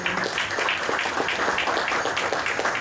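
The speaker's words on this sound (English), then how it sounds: "can we just give a round of applause for them?" An audience at a school awards ceremony at Oxon Hill High School claps steadily for standing cadets, a dense, sustained patter of many hands that holds at an even level throughout.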